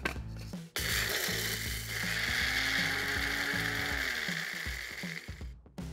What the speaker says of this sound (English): I'm now going to grind my Sichuan peppercorn.